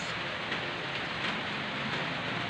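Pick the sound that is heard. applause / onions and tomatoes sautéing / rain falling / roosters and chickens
rain falling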